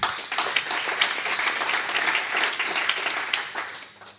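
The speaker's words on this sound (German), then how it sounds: "Applaus" Sustained applause from the audience at a panel discussion, many hands clapping in a thick, even wash that starts strong and tapers slightly toward the close.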